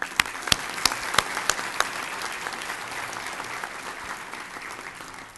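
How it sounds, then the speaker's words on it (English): Graduates at a 2018 high school graduation ceremony draw a round of audience applause, dense clapping with a few sharp, loud claps standing out early before the sound settles into an even, slowly fading patter. "Let's give all of them a hand of applause."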